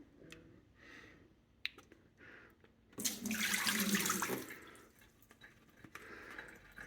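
Water swishes around inside a Mr Funnel fuel filter funnel held over a sink. A single rushing, sloshing burst lasts about a second and a half, with faint clicks and drips before and after.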